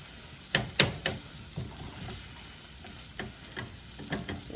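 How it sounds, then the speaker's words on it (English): Chili spice packet frying in a pan to bloom the spices before liquid goes in: a soft steady sizzle broken by a few sharp utensil scrapes and stirring knocks, close by with no talking. "I like to kind of cook that off, like I said, and bloom the spices before I add any liquids"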